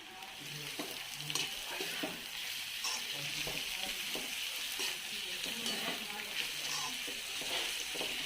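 Finely chopped capsicum frying with already-fried onion in a pan for crispy veg noodle pakodes, a steady sizzle with occasional stirring scrapes and clinks, no voices.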